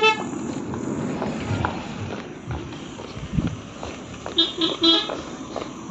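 A gas delivery vehicle approaches on a road at night, sounding a few short honks toward the end over footsteps and faint background noise.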